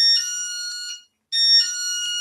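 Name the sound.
motion detector alarm connected to the house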